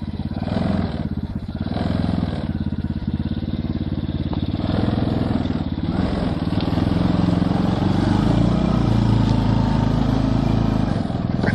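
A miniature car engine runs flat out at full throttle with a loud, buzzing, continuous rasp that holds steady close by for several seconds.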